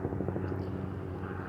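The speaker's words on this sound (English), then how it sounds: "I hear a helicopter." Helicopter flying overhead, a low continuous rumbling thrum with faint rotor pulsing, moderately distant and steady for a short moment.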